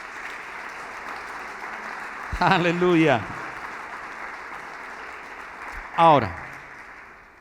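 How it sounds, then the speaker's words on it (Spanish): Church congregation applauding at an evening service, a steady mid-level wash of clapping throughout, with someone briefly speaking over it twice. "Dale un fuerte aplauso al Rey en esta noche."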